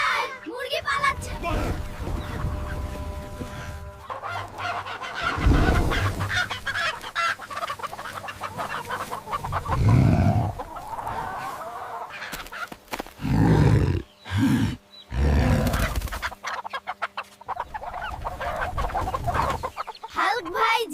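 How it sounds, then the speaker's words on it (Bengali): Chickens on a village poultry farm cluck and squawk in bursts, mixed with loud voices and heavy roar-like blasts. "আরে তোমরা তো দুষ্টু মুরগি।"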